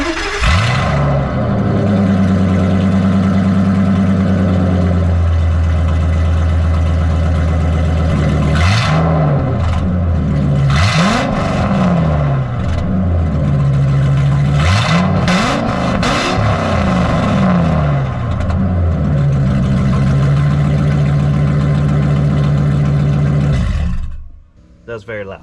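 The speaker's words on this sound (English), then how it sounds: "see what it sounds like without a muffler." A Ford F250 Super Duty truck engine running with no muffler idles with a loud, raw roar, revving up and down several times before cutting off near the end, close up and harsh.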